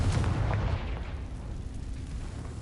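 A Confringo fire-blast spell in Hogwarts Legacy goes off as a deep booming explosion with a heavy low thump at the start, then a rumbling tail that slowly fades, loud and close.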